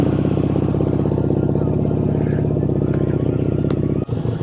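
A motorcycle engine runs steadily and loud throughout, with a rough, pulsing mid-range idle, then a brief dip near the end, recorded early morning before a bike ride from Trichy to Chennai.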